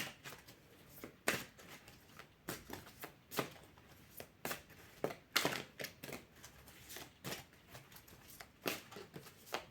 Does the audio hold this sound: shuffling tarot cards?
yes